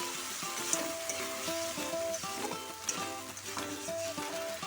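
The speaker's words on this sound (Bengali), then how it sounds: "এবার মশলার সাথে মাংসটা দিয়ে ভালো করে কষিয়ে নেব কম আঁচে।" Yogurt-marinated chicken is stir-fried with spices in a pan over low heat, a steady close sizzle broken by repeated scraping strokes of a spatula, with no talking.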